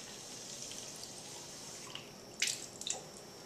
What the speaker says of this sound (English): you're going to fill it up using a sink and the water from the tap